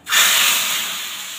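A hot tempering of dried red chilies and curry leaves is poured onto cooked rice and sizzles: a sudden loud hiss that holds steady, then slowly fades.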